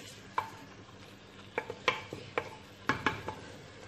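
Chicken frying in a clay handi, with scattered light clinks and scrapes of a spoon stirring at irregular intervals over a low background sizzle.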